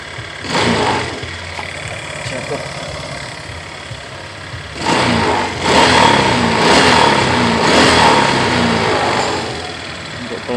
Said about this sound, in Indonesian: Mesin langsam normal.